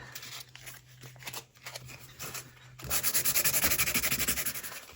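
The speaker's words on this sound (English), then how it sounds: "And we'll sand this." Sandpaper rubs over the paper edges of a handmade envelope made from junk mail. It starts as softer scattered scraping, then becomes a loud, rapid, rhythmic back-and-forth sanding for the last couple of seconds.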